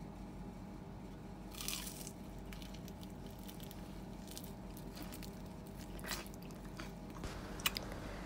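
Crispy fried chicken is bitten and chewed up close, giving soft crunches and wet chewing over a steady background hiss, with a few sharper crackles and no talking.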